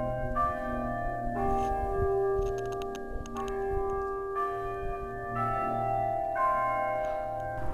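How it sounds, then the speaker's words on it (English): Church bells in Carencro, Louisiana ring out in a steady, overlapping peal, each strike sustaining and blending with the next at a moderate distance. "I could hear these bells chiming from the house"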